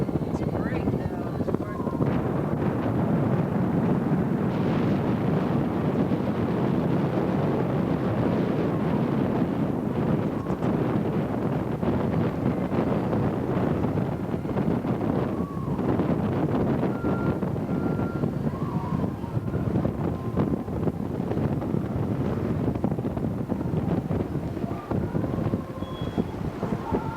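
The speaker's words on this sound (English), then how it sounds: "The wind's blowing." Strong wind buffeting the microphone on the deck of a cruise ship in Alaska, a constant loud roaring rush for the whole stretch, with faint voices in the background.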